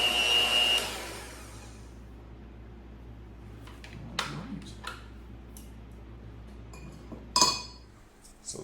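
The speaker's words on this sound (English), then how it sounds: "I'm applying downward force with the mixer and walking my bowl with my hand." An electric mixer whirs loudly for a moment in chocolate cake batter, then drops to a low hum as the bowl is turned, with scattered clinks of beaters and glass against the bowl.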